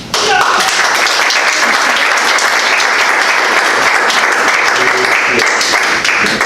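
Loud, close applause from a Toastmasters club audience welcoming a presenter, dense clapping that holds steady throughout without pause.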